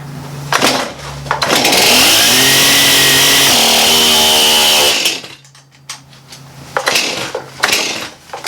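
A Stihl Farm Boss chainsaw pulled over a few times, then catching and roaring loudly at high revs for several seconds before dying back to idle. More sharp pulls follow, and the engine falters as if flooded.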